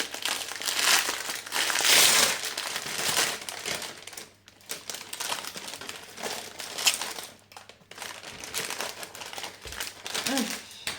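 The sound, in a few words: unwrapping a diamond painting kit from its packaging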